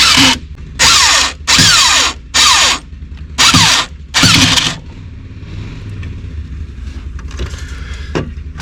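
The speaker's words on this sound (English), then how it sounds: "Let's see what the drill does." An electric drill whirs in five or six short, loud bursts while fitting a cabinet inside a 2005 Ford E250 van, each spinning up and winding down, followed by quieter clicks and handling noise.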